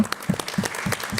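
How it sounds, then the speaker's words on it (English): An audience at a summit event applauds with brisk, dense clapping, a short close burst of many hands. "A big round of applause for the media."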